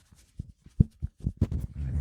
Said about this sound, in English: Do you like getting scratched with the microphone?